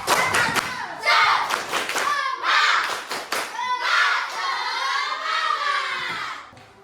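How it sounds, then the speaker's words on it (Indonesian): Students in a classroom perform a rhythmic spirit clap chant at the end of a morning lesson. Sharp, patterned bursts of group clapping with shouted chanting come first, then sustained voices of the class calling out together. "Oke semuanya, tepuk semangat."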